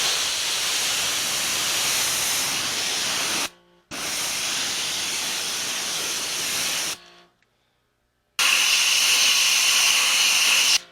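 Water spray hisses loudly while rinsing the interior and console area of a Toyota car, in three long bursts separated by short silent pauses, with no talking.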